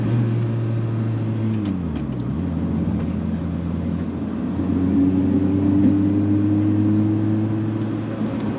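A 2003 Pontiac Vibe GT engine drones steadily at highway cruising speed around 3,000 RPM, a low constant hum with road rumble, pitch dipping briefly before settling back.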